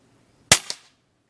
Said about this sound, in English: .22 caliber, and it is loud